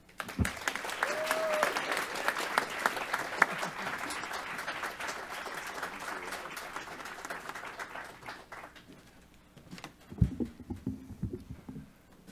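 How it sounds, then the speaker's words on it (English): A crowd applauds after a minister's announcement, steady clapping that gradually thins out, with a few voices and a louder clatter of claps near the end. "Can we get another round of applause?"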